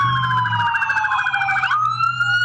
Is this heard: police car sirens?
yes